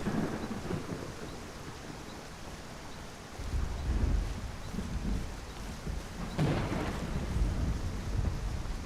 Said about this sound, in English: I guess we're going to ride out this storm at the inn